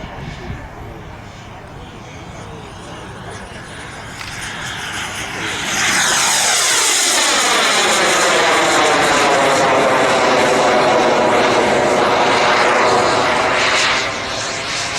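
A model aircraft engine performs aerobatics at the Popham model air show. Its drone swells from distant to a loud, close, pitch-sweeping roar that holds for several seconds before easing off.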